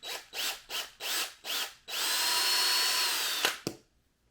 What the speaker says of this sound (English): let that drill bit do the walking.